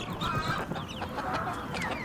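Xinghua chickens from Zhaoqing clucking steadily at close range, with overlapping calls in a dense, continuous flock murmur.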